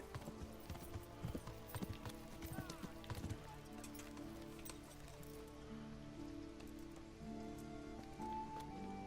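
Horse hooves clip-clop in a rapid, steady rhythm in the medieval game Kingdom Come: Deliverance, fairly close and prominent, layered over a sustained ambient drone with a few faint background voices.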